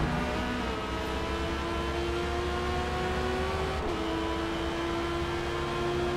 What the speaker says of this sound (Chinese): 车辆又开始打滑，先稳一下车。